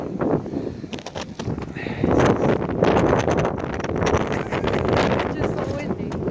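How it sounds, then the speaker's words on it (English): Strong wind buffets the microphone on a winter hike during a high wind advisory, a loud continuous roar with rising gusts, while people talk intermittently underneath. "It's so windy."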